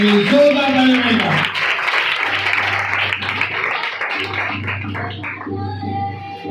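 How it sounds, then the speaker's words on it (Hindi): A congregation bursts into applause, a dense wash of clapping that gradually thins out, with voices speaking over it. "इस कलाम के लिए जोरदार ताली हो जाएगी"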